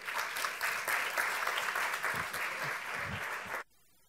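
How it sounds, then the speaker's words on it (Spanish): An audience at a talk applauds with a dense, steady burst of clapping that carries on for several seconds and then stops abruptly. "Un aplauso."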